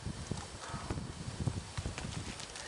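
A horse's hooves strike the ground at a counter canter, a repeating three-beat sequence of moderately close thuds and clops set against a steady background wash.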